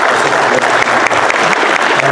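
Audience applause at a Salinas, California city council meeting, a dense, steady wash of many hands clapping that sustains evenly through the short stretch without a break.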